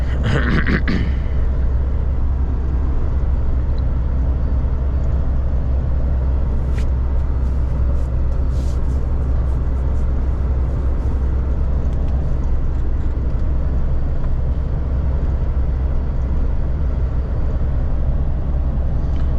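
Car driving on a rural road through fields and forest, recorded from inside or on the vehicle: a constant, loud low rumble of engine and road noise with steady wind hiss throughout.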